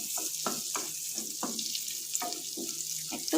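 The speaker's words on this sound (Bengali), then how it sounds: "এরপর আমি রসুনটাকে হালকা করে একটু ব্রাউন করব" Garlic lightly browning in a pan for chicken momo filling, giving a steady soft hiss of frying, with repeated light scraping strokes of a spatula every half second or so, close and moderate.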